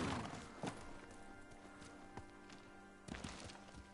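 Horse hooves clip-clopping in the video game Ghost of Tsushima, steady and fairly close, with a couple of louder thuddy bursts and faint game ambience behind.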